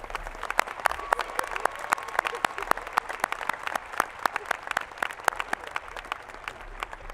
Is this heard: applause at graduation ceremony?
yes